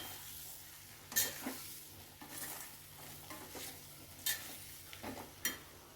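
Boiled potatoes tossed in masala in a pan for a potato fry, with faint scrapes and a few sharp clinks of the spatula over a quiet, low sizzle.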